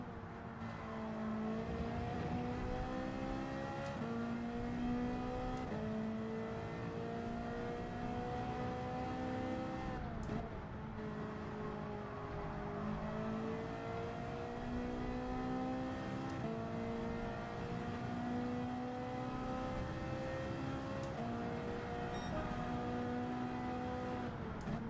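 Ferrari race car in Gran Turismo 7, its engine note climbing through the revs and dropping at each gear change, a steady loud high-pitched whine across the whole stretch with no talking.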